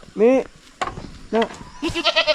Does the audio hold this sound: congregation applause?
no